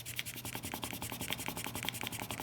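A pencil eraser rubs back and forth on paper during algebra homework, making quick, dry scratchy strokes in a steady rhythm, close and fairly soft, with no talking.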